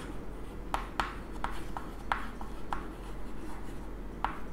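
Pen writing on paper during a class 8 maths lesson, several short scratchy strokes in an irregular rhythm, close and faint, with no talk over them.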